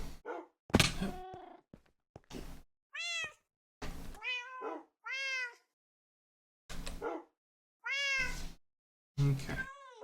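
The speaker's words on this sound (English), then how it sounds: "kitty chorus. Meow, meow, meow," Several cats meow in the Minecraft video game, a chorus of short, rising-and-falling mews in separate bursts with silent gaps between them, plus a dull thunk near the start.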